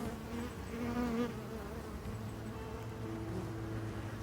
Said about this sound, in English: Let's look at some bees making some beautiful new comb to finish this off.